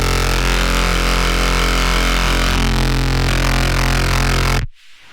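A distorted synth built on square wave oscillators in Ableton Live drones loudly and buzzes with a harsh, dense, slowly shifting tone, then cuts off abruptly near the end, with no speech.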